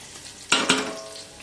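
Onions frying over a high flame for biryani, with a low sizzle throughout and two quick, loud stirring scrapes close together in the middle.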